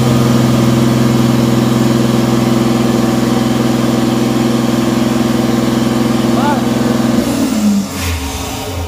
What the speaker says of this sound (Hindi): मारे स्टार्ट, फुल रेस कीजिए, फुल रेस कीजिए।